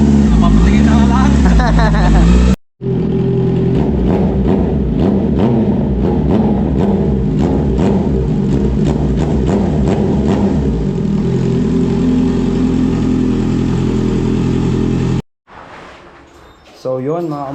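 A Honda CBR650R motorcycle fitted with an IXIL full exhaust revs loudly and close by, its engine roaring steadily for most of the stretch with brief cuts and a quieter idle near the end.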